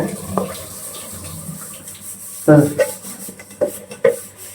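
Running tap water splashes steadily into a sink as items are rinsed and rubbed by hand, with a few louder clatters and scrubbing bursts breaking the flow, close by.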